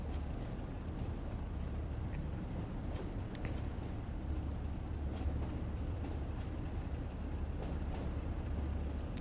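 A train rumbles along the West Somerset Railway in Train Sim World 2, a steady low clonking drone that runs the whole way at a moderate, constant level with faint knocks over it.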